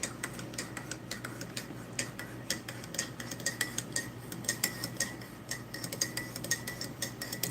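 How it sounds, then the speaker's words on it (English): Metal spoon stirring coffee in a cup during an outdoor ration meal, giving a quiet, steady run of light clinks and taps against the cup over low background noise, with no talking. "Now I'm just stirring the coffee."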